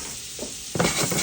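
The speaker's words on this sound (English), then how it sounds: "We're also going to add a knob of butter." A knob of butter hits a hot pan already slicked with olive oil, and a sudden close sizzle flares up after a brief quiet lead-in, hissing steadily to the end.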